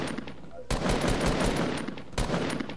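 Video game gunfire in fast automatic bursts, a short lull then a long loud volley and another burst near the end, close and harsh with a voice faintly underneath.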